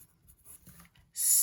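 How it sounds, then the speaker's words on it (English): Grey lead pencil writing on paper, heard as faint intermittent scratchy strokes that end in a louder, sustained rasping stroke near the close. "I'm going to start by writing 4 things. I'm going to write hatching,"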